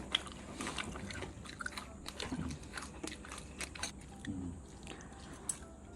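People eat smoked pork belly and fried shrimp at home, producing soft crunching, biting and wet chewing sounds close to the microphone, fairly quiet, with bits of background talk.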